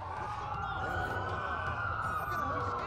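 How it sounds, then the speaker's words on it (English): Several police sirens wail in the Watch Dogs video game, a steady rising and falling tone over a low rumble, moderately loud and continuous, with game voices talking beneath. "That's a lot of sirens for a cocktail."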